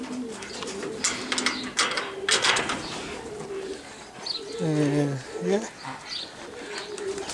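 Racing pigeons cooing at their loft during a first loft release, with several soft, throaty coos close by, rising and falling amid rustling, while someone speaks briefly in the background.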